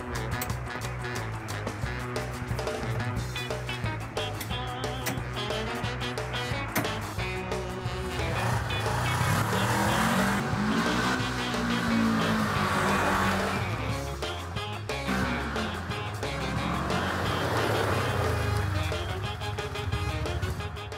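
A Segway Villain SX10 buggy driving on sand, with a continuous loud engine drone that rises and falls, tire scrub and clatter, and voices of people talking over it in places.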